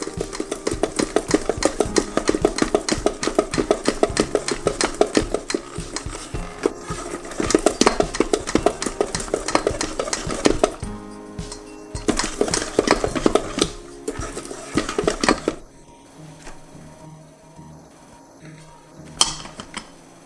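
Wheat flour stirred into steamed rainbow coconut cake batter for putu ayu, a whisk or spoon clattering steadily against a bowl in busy repetitive strokes, then easing off to quieter scattered knocks toward the end.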